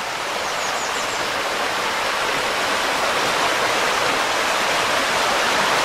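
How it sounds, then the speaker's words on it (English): Running water from a stream next to a campsite at Ravensburg State Park, Pennsylvania, a loud, close, steady rushing wash with no talking, unbroken from start to finish. "I absolutely love falling asleep to the sound of water."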